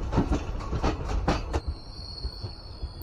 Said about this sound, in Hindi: ट्रेन पहुंच रही है जलपाईगुड़ी रोड